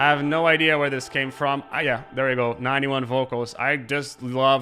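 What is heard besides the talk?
No distinct noise like a dog, phone or traffic.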